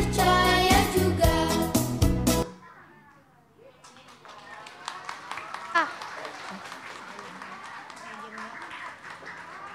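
A children's audience at a church Easter event claps after a loud burst of music stops. The applause is fairly soft and scattered, with voices mixed in.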